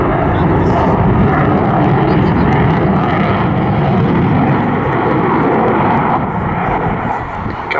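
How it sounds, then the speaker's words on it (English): Eurofighter Typhoon FGR4 jet roaring through an air display at an airshow, a loud, broad, rushing engine roar that swells and slowly fades toward the end, with a commentator talking over it. "you don't get a chance to say much during a Typhoon display, and here Adam now is just going to give us"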